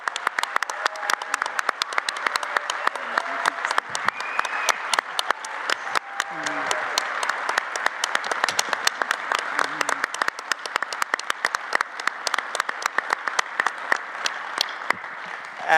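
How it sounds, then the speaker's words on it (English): A standing audience in a large plenary hall at an Internet Governance Forum conference gives loud, sustained applause, dense crowd clapping with sharp individual claps throughout, and a few faint voices mixed in. "I want everybody to stand and just give yourselves and the Kingdom of Saudi Arabia a rousing hand applause"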